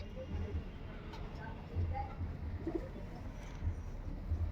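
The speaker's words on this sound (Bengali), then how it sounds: "এটাও টেডি কবুতর আছে" Soft, low coos of a Teddy pigeon repeat in short bursts against a quiet background, several calls spaced a second or so apart.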